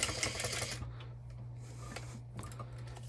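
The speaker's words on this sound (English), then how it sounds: "We're going to start the top stitching at the bottom because that'll be sewn into the Mickey" A sewing machine top stitching fabric on a small mouse-shaped bow add-on, a steady mechanical whir for under a second followed by quieter intermittent stitching bursts, close up over a constant low hum.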